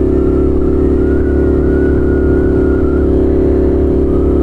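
A scrambler motorcycle with a very loud exhaust is ridden while the rider stands on the pegs. Its engine gives a steady, close, heavy drone that stays constant throughout with no break.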